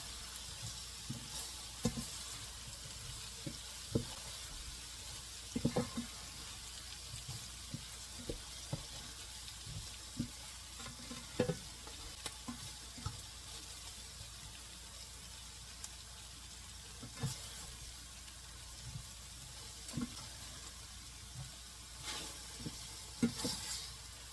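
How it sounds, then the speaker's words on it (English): Okra browning in a pan beside cast-iron ribeye steaks, a soft continuous sizzle with occasional clicks and scrapes of stirring, fairly quiet and close, with no voices. "I'm stirring, in the other pan, I'm stirring up the okra."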